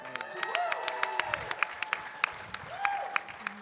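Applause from a live podcast audience at a fan convention, steady crowd clapping with scattered sharp individual claps and brief whoops, moderately distant and continuous throughout.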